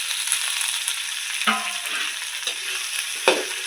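Onions and tomatoes frying in a pan give a loud, steady sizzle, close up, broken by a few scraping stirs of a spoon.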